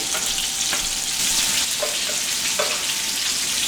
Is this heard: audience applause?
no